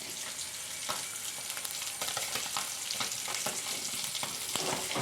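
Oil sizzles and crackles steadily in a pan, with scattered pops and occasional scraping stirs, no voices.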